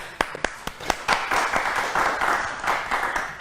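A few sharp individual claps open into a burst of audience applause at an Independence Day community talk show, fairly close and loud, fading slightly toward the end.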